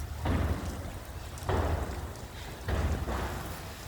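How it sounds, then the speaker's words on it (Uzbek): Steady rain falls in Jizzakh, a continuous soft hiss with gentle swells in loudness, heard alone without any talk. "Ajoyib yomg'ir yog'yapti."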